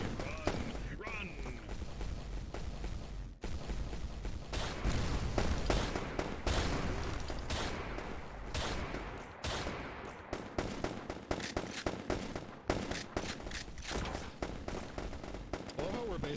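Dense, continuous gunfire from the VR combat game Neon Divide crackles and thuds through the whole stretch, with overlapping rapid shots and bursts, while players talk over the action.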